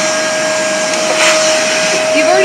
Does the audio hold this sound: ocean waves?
no